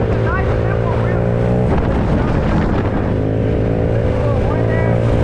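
A Honda Grom motorcycle engine revs hard during a wheelie, a loud, buzzing small-bike drone heard close from the rider's position, rising and falling in pitch, with heavy wind rush and a voice talking over it.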